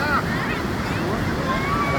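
Sea waves surge and wash along a shore in Thailand, a steady nearby rush with wind buffeting the microphone and faint voices underneath.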